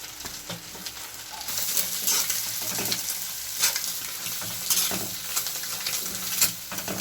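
Onions, green chillies, carrot and capsicum fry in hot oil in a pan for fish fried rice, a steady close sizzle with stirring scrapes rising and falling throughout.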